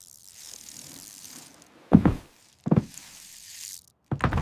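Sound effect of a door being unlocked in an audio drama of The Metamorphosis: quiet mechanical knocks and clicks in two close bursts, then a third starting, over soft background noise.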